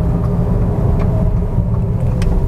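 A 2022 Wuling Air EV electric microcar rolls through a narrow alley, giving a steady low road and tyre rumble inside the cabin with a few faint ticks and no talking.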